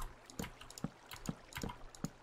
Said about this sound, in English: let's block up the water real quick